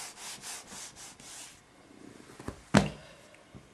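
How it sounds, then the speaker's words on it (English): Board eraser rubbing out writing on a classroom board: a run of five steady rhythmic scrubbing strokes, close and fairly quiet, then a softer pause and a single sharp knock or tap near the end. "So now I'll rub all of this out."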